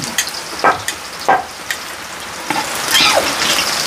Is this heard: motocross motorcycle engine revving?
no